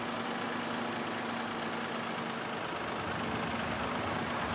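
A small tractor engine idling in Farming Simulator 22, heard as a steady, unbroken mechanical drone with a faint low hum that stays even throughout, with no voices.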